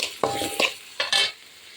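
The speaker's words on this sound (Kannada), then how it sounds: "ಕೊತ್ತಂಬರಿ ಸೊಪ್ಪು ಚೆನ್ನಾಗಿ ಫ್ರೈ ಮಾಡಿ." Coriander leaves fried in a pan with a little sugar, heard as a few short bursts of stirring and sizzling with brief scraping touches, close and moderately loud.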